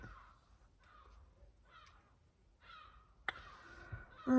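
Seagulls call overhead in a run of harsh, scattered cries, fairly faint at first, then a sharper burst and a louder noise close by at the end.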